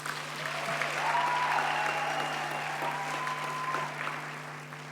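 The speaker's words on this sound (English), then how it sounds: "So please give them a round of applause" A crowd at a graduation ceremony applauds steadily for several seconds, a dense, even clatter of many hands clapping at once in a large room.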